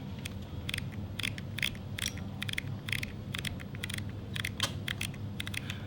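A Mamiya ZD medium format digital camera fires its mechanical shutter over and over at a fast speed, giving a run of sharp, close mechanical clicks in an uneven rhythm over low background hum.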